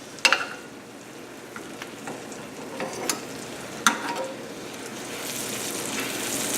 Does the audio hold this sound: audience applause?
no